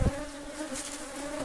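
Dense buzzing of many bees around propolis-producing hives outdoors, a continuous close drone with a brief thump at the start.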